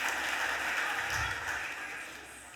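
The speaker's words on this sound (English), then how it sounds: "Let's give her a round of applause, everyone." Audience clapping at a Philadelphia City Council stated meeting, a moderate patter of many hands that holds steady before gradually tapering off, with no talk over it.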